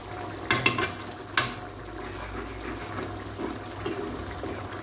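Beaten egg poured into a hot pan and frying for a scrambled-style dish, a couple of brief splashy hits followed by a steady soft sizzle with light stirring.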